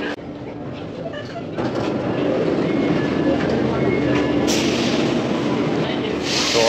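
A Delhi Metro train rides from Saket toward Kashmere Gate with a steady, loud interior rumble and rolling noise that grows after a moment and keeps up without a break.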